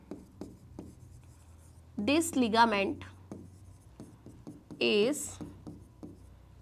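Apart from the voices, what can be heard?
writing on a board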